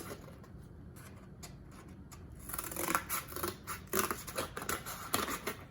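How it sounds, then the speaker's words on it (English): Scissors cut a piece of cardboard from an Amazon box in half. Quiet snips at first give way to louder, rapid crunching cuts, heard close up without speech. "I'm gonna cut this piece in half"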